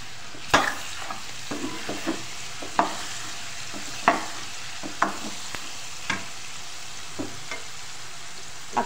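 Garlic paste fries in a pan for an aloo soya chunks curry, under a steady sizzle. A spoon stirs it with irregular, sharp scrapes and taps close by, and no one speaks.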